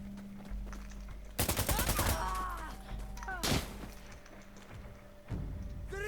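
Gunfire in the game Insurgency Sandstorm, with a loud burst of rapid automatic fire, a single sharp heavy shot a moment later and another burst starting at the end.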